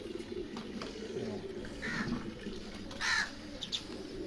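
Pigeons coo in a loft near Lahore, soft low calls repeating close by among a few sharper bird calls, with a voice talking faintly.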